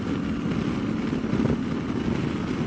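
A Triumph Scrambler 1200 Steve McQueen edition motorcycle accelerates hard in sixth gear, its engine giving a loud, steady low rumble that swells slightly, heard up close with wind noise and no talking.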